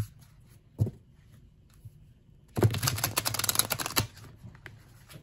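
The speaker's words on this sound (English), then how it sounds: "now let's see how these decks shuffle" A Lucine tarot card deck is riffle-shuffled in a dense, crackling burst of about a second and a half, with a single sharp card tap before it and a few light clicks after, in a quiet room.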